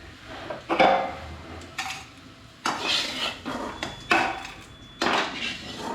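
A metal spoon scoops fried curry leaves out of hot oil in a pan, with a series of sharp, close scrapes and clanks against the pan every second or so and quiet pauses in between.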